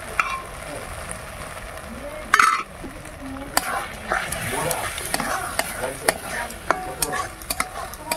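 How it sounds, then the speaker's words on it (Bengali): Boiled peas and potatoes for ghugni are stirred and sautéed in a pan, with repeated spoon scrapes and clicks and a soft sizzle under them. A loud knock comes early and a voice is faintly audible in the background. "এবার খুব ভালো করে কষে নেব।"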